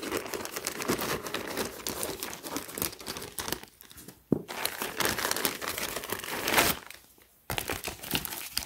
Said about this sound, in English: So just to do the unwrapping for you guys to see. So I'm going to cut this open.